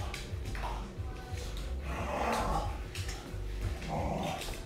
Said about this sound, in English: That's my crazy dog. She sounds like a gremlin, huh?